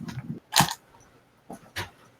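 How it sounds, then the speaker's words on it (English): A dog barks somewhere in the house, faint and muffled: a few short bursts in two pairs, separated by a quiet pause. "I think my dog's barking."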